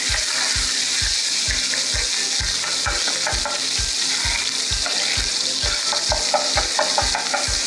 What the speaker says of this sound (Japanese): 肉が生にならないようにしっかり火を通す。